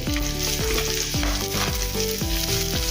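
Two cups of chopped green beans go into a pan of fried garlic for vegetable pulao, sizzling steadily throughout while tonal music plays over the frying.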